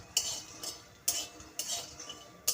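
Peanuts roast in a pan, heard as quiet, evenly spaced scrapes and rattles of a spatula stirring the nuts, about five strokes over a low background hush.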